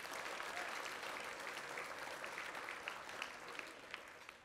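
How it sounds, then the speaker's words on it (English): Steady applause from an audience at a 4-H awards banquet, dense even clapping sustained throughout, with a few louder individual claps standing out near the end. "let's give Melanie a big round of applause."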